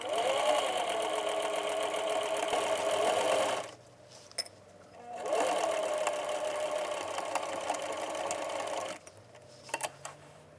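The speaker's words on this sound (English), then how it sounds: "I'm going to sew here 1/2 inch from the edge all the way around" A sewing machine runs steadily, stitching a skirt waistband seam half an inch from the edge, with a close mechanical whir in two long bursts separated by a short pause and a few light clicks at the end.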